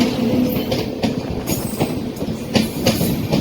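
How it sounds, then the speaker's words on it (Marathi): A passenger train pulls into a station on the way to Yavatmal, loud and close, with clattering wheel thumps at irregular intervals over a continuous rolling rumble and brief metallic squeals. "तर फ्रेंड्स ट्रेन आलेली आहे, पाहू शकता या ट्रेनने जायचं आहे आपल्याला."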